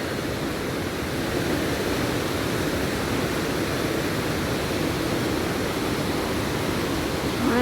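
Rhine Falls in August thunders with a dense, unbroken roar of falling water, loud and steady throughout, with no voices.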